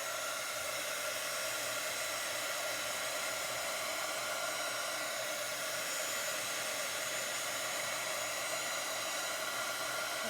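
A hair dryer blows steadily on a freshly made Chalk Couture chalk craft project, a continuous airy whir that holds an even loudness throughout with no talking.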